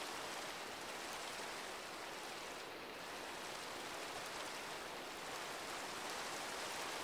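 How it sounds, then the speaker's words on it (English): Steady rain falls continuously, a dense even hiss of drops that fills the scene without pause, moderately loud and with no voices. "It sounds like it's raining."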